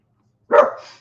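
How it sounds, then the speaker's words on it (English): Dogs bark outside the house; one short, sharp bark rises abruptly out of silence, fairly close and loud, then trails off within half a second. "there's dogs barking outside, so you probably hear my dog going crazy"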